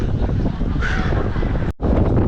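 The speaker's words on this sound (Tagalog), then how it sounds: "lakas pa ng hangin" Strong wind buffeting the microphone in loud, rumbling gusts, roaring steadily with a brief dropout near the end.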